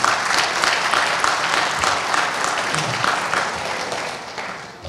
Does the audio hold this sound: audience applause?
yes